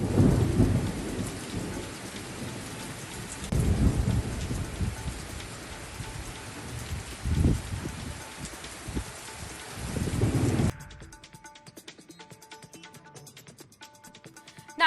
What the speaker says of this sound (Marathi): विजांच्या कडकडाटासह मान्सूनपूर्व पावसाला आता सुरुवात झाली असल्याचं बघायला मिळत आहे